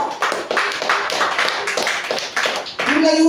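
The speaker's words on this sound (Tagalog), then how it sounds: "Sige, tuloy po natin ang ating palakpak." A church congregation claps together in fast, dense rhythmic bursts that fill the room, close and lively, with a voice rising over them near the end.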